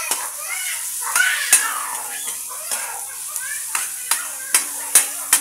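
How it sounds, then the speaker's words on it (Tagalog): Ground beef with browned ginger and garlic frying in a pan, crackling sizzle under repeated scraping stirs and sharp utensil knocks on the pan, close up, with a voice speaking faintly at times. "Halu-haluin lang para sabay-sabay yung pagka-luto ng beef"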